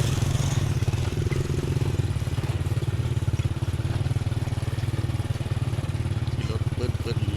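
Motorbikes ride along behind cattle being delivered to villagers, a steady mid-pitched engine drone running close and loud throughout, with faint rattles and some background chatter mixed in.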